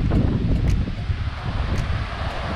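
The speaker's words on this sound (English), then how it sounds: "I think by that sound, we've approached the waterfall." A broad, constant roar of rushing water from a waterfall in Kosciuszko National Park, fairly loud and steady, with some wind buffeting the microphone.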